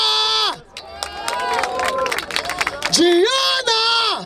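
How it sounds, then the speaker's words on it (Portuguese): The crowd at a freestyle rap battle semifinal in Barueri roars and cheers loudly to vote after a host calls for noise, and the host's voice rises over the crowd. "Barulho para as rimas da Érica."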